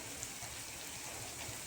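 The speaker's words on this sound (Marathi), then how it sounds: "पाऊस आज सुरू झालाय. मस्त इतकं छान पडतंय ना." Rain falls steadily outside during the start of the monsoon, a soft continuous hiss of drops on surfaces, faint and even throughout with no voices.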